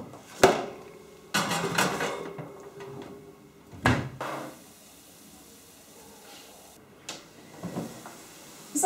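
Breadsticks on a baking tray go into an oven preheated to 200 degrees, with sharp metallic clunks of the oven door and tray, a rattle and scrape, then quieter handling knocks in a home kitchen.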